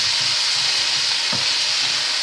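Lardons fry in a pan with a loud, constant, crackling sizzle, close up, joined by a brief low knock partway through.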